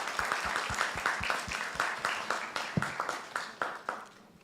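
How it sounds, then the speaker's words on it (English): Audience at a national trial advocacy moot court final round applauds a welcomed guest, a room-filling burst of clapping that rolls on steadily and tapers off at the end. "Can we have a round of applause?"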